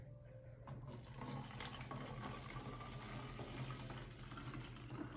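Water pouring into a homemade cleaning mixture of Castile soap and essential oils, a steady close splashing stream that starts abruptly and runs on evenly.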